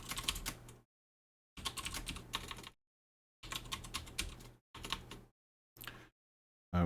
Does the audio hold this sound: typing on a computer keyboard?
yes